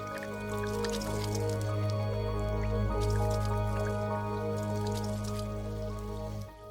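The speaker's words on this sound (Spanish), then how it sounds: "Mira lo que pasa cuando vierto agua sobre ellas." Water poured over taro plant leaves rolls off and drips in soft, scattered patters, set against a steady low hum that carries through the whole stretch.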